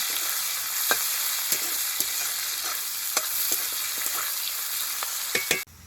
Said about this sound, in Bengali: এবার পেঁয়াজটাকে খুব ভালো করে ভেজে নেব।